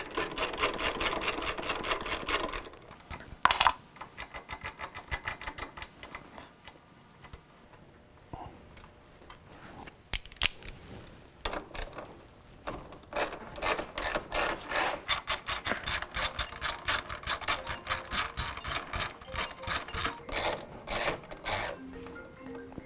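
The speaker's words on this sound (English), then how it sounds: "let's get all these bolts out of the way" Bolts are removed from a 2019 Kawasaki ZX6R motorcycle, with repeated close ratcheting clicks and rubbing metal sounds in steady rhythmic runs, broken by brief pauses and a few sharper knocks.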